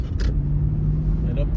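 A Lexus GX460 SUV on Pirelli Scorpion all-terrain tires pushes through a snow drift during a snowstorm, giving a steady low engine and road rumble at close range.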